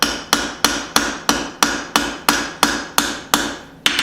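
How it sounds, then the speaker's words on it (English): Hand hammer blows striking hot flat bar steel while forging tongs, about a dozen sharp, ringing metallic strikes in an even rhythm, each decaying quickly, close and loud, with no talk. "Then we're going to drop the hammer."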